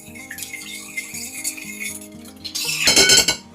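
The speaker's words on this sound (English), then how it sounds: "I'm going to mix that together" A utensil clinks and scrapes against a bowl while sugar is stirred into a mixture for rolls, giving light irregular taps that build into a busier rattling burst near the end.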